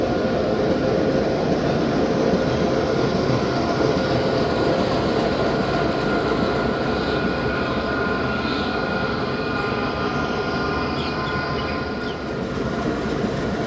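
The Khyber Mail passenger train runs on rails behind a 9006 locomotive, a loud, steady, close rumble of wheels and carriages with continuous rattling that holds throughout, with no voices.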